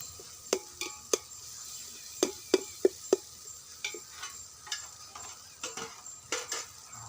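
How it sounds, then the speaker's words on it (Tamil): Fried onions and tomatoes being mixed in a pot over a wood-fired stove, heard as a series of sharp, clinking ladle strikes and scrapes over a faint sizzle. The sound is fairly quiet and has no voices. "அவர் தான் வந்து நல்லா மிக்ஸ் பண்ணிகிட்ருக்காரு"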